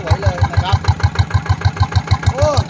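A small DI 120 diesel engine in original condition idles close by with a steady, rapid thumping beat, while someone talks over it.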